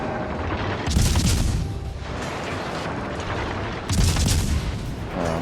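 Destroyer Gearing's guns firing in the naval game World of Warships Legends, two heavy booming salvos a few seconds apart over a constant low engine and ocean rumble.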